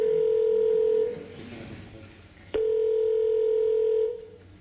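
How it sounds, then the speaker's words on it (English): A telephone line gives two long, steady tones separated by a brief click and a quieter gap, like a ringback or dial tone, with nobody speaking over it. "Okay, can you get Tony on the line, please?"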